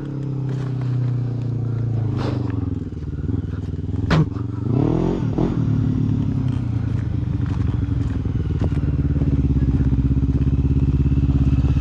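A motorcycle engine revs hard in second gear nearby, a loud continuous drone climbing and holding pitch, with a sharp clatter and scraping partway through.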